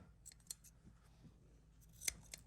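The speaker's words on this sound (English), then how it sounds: "Snip that with some scissors to form it." Scissors give several quiet, sharp snips while trimming carpet to fit an odd-shaped stair, the brief crisp cuts spaced irregularly against a faint, near-silent background.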